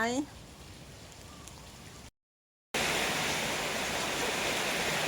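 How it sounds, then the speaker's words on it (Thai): Heavy rain falls on an orchard during a custard apple harvest, a loud, dense, steady hiss that sets in after a quieter stretch with a brief voice at the start. "ฝนตก ฝนตกนี่เก็บไม่นา มา ฝนตก มาแทบไม่ทัน"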